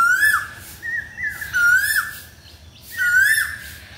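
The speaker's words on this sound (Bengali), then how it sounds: "কত সুন্দর পাখির ডাক।" Village birds sing outdoors in repeated bright whistled phrases, three or four clear bursts with short gaps, close and loud with no talking.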